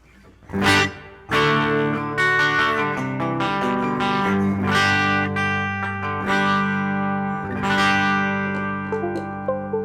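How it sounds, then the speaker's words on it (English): Clean electric guitar on the neck pickup, chords ringing out with a wash of reverb trailing behind each strum, notes blooming and lingering before the next. "kick in a little bit of reverb here."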